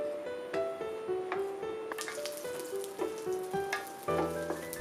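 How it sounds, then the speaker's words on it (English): Hot oil sizzles steadily in a pan with sautéing chilies, broken by soft clicks and stirring scrapes, with no talking. "Saute those together for a few minutes."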